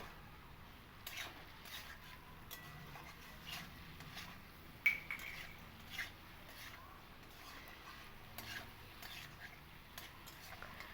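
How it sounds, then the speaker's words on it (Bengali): Potatoes and cauliflower stirred in spice masala in a pan, a quiet low sizzle under repeated scraping and clinks of a spoon against the pan, with one sharper knock partway through. "আলু আর ফুলকপিগুলো দিয়ে এই মশলার সঙ্গে কিন্তু আমি পাঁচ থেকে সাত মিনিট মতো খুব ভালো করে একটু কষিয়ে নেব"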